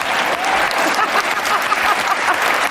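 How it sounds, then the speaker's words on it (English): An event audience bursts into steady, dense applause, a continuous rush of clapping with no break, fairly loud and close. "Wait a minute, I'm getting some applause here, man."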